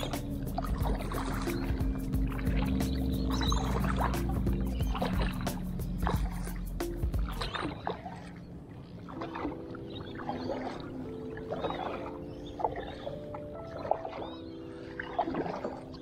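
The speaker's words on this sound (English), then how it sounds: "Very, very leisurely paddle all the way down." A kayak paddled leisurely on calm water at Budds Beach, Gold Coast, with close paddle dips, drips and gurgles. A steady wash fills the first half, then quieter separate strokes follow.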